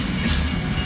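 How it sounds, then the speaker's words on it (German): A train rolls past in the video game Hitman Absolution, a continuous close rumble with rattling wagon noise that keeps going without a break, and no voices. "Dieser Zug hört anscheinend gar nicht mehr auf."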